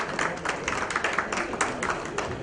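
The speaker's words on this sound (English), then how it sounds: "A round of applause for Program Chair of the Sabbath." Audience applause in a conference hall for a Principal Secretary of IT, Government of Kerala, welcoming him on stage: a dense, steady patter of many hands clapping, moderately loud, without speech.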